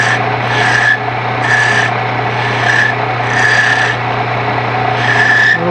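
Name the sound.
gouge shaping a wooden finial on a lathe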